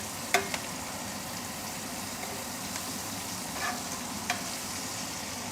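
Garlic prawns frying in a pan give a steady, even sizzle throughout, with a few brief clinks and stirring scrapes.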